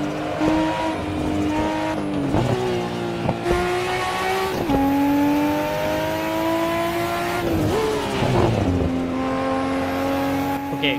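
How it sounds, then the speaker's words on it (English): Nissan GT-R engine in the Assetto Corsa racing game, loud and close, revving up and down through repeated gear changes with rising and falling pitch, plus occasional tire squeal, with no talking. "So I'm gonna let you guys just enjoy the sounds of the GTR right now."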